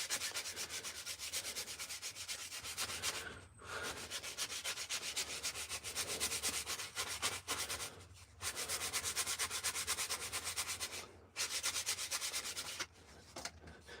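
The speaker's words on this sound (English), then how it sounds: "I'll start sanding it like this, and then start rotating it in my hand." Close, continuous rubbing of sandpaper on a hand-carved wooden spoon in quick back-and-forth strokes, with a few brief pauses along the way.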